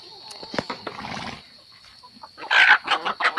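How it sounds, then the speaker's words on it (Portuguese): A rooster crows loudly nearby, followed by shorter bursts, after some scattered clucks and quieter background sounds. "Olha lá o galo."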